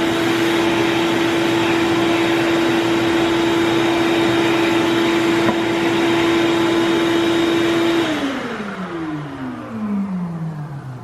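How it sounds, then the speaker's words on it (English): A shop vacuum runs loud and steady, sucking up wood shavings after ring turning, with a constant motor whine that winds down near the end as the machine is switched off. "we're gonna go ahead and vacuum those up a little bit."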